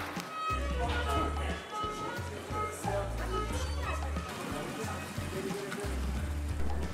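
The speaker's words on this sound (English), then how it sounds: "This shuttle bus has now become our shelter as it's heavily raining outside." Heavy rain pours outside a shuttle bus parked on Nemrut Mountain in southeast Turkey, a dense steady patter on the roof heard from inside under ongoing conversation.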